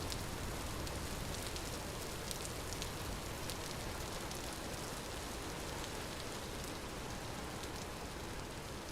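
Rain falls steadily in the survival game Vintage Story, an unbroken dense hiss of drops on the ground with no voices, even and moderately loud throughout.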